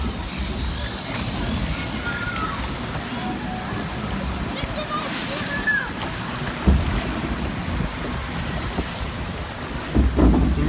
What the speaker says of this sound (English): We always make a big wave coming down here.